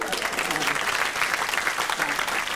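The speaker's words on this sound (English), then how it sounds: "Please, please, hold your applause." A comedy show audience breaks into sustained applause, a dense, even wash of many hands clapping close by, steady throughout the short stretch.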